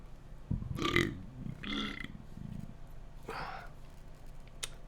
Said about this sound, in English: hold on, I'm burping.